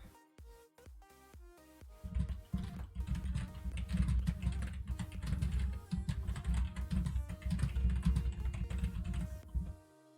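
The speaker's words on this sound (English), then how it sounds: "I have my mic a little closer to my keyboard now, so if it's picking up my keyboard typing a lot" Rapid computer keyboard typing picked up by a close microphone, a brisk clatter of keystrokes running continuously for several seconds, with a few sparse clicks before it begins.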